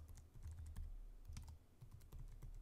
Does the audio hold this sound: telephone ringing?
no